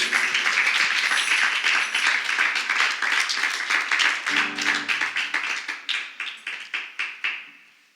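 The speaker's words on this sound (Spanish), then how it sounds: "Ese aplauso es para el Señor" A church congregation applauds steadily, dense clapping that breaks into rhythmic unison claps and then fades out, with a brief voice mid-way.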